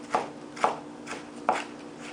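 A kitchen knife dices carrot on a cutting board in four crisp, close chops, spaced at irregular intervals of roughly half a second to a second.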